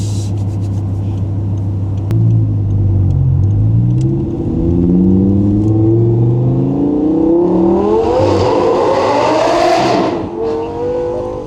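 An Audi R8 V10 with a gated manual and valvetronic exhaust accelerates hard in cold weather with the top down, its loud engine note climbing through the gears with rising harmonic sweeps before the throttle lifts near the end.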